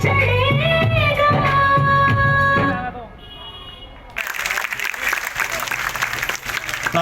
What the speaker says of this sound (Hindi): तालियां बजाकर आपने इन बच्चों का हौसला अफजाई किया